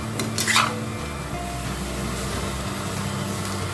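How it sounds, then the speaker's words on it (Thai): Minced beef stir-fried with chili and shallots in a pan for a northern Thai dish, a steady loud sizzle with scraping and stirring clatter of a utensil against the pan throughout. "พริกหอมแล้วครับจิ้นลงไปผัดเลย"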